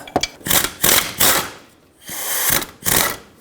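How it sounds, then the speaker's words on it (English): Swivel socket ratchet loosening 15mm timing cover bolts on a 2.4L 1997-2006 Jeep Wrangler, giving repeated close raspy clicking bursts with short pauses between strokes. "put a swivel socket on, and pull them off"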